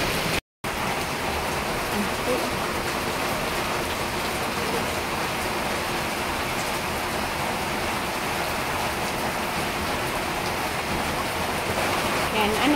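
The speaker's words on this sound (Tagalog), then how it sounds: "May ulan. Lakas ng ulan." A heavy downpour roars on without a break as an even, loud wash of rain on a surface, with faint voices now and then beneath it.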